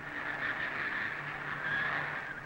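A 1954 Indy 500 race car runs laps with a continuous high-pitched engine whine that is loud and steady, rising and falling slightly as it moves through corners and down the straightaway.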